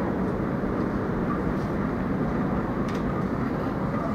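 A train at an Indonesian railway station gives a continuous, loud, even rumble throughout with no distinct events, no talking.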